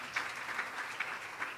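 Church congregation applauding the Lord, a steady wash of clapping from many hands at moderate distance, continuous and even without voices.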